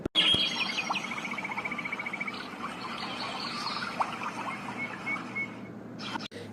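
A flock of hill birds chirps and tweets continuously, many overlapping calls at moderate distance, forming a steady busy chorus with no voices.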